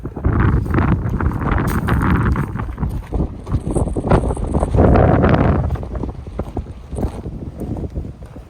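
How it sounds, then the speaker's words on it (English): Strong wind gusting across a rocky mountain trail near an overlook, a loud continuous buffeting roar with microphone rumble that swells and eases, with no talk heard. "It's gotten windy too."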